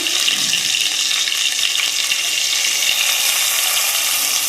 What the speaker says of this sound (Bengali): পটলের যে কাঁচা গন্ধটা সেটা যাতে না থাকে, একদম হালকা করে ভাজতে হবে